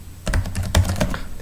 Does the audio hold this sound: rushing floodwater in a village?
no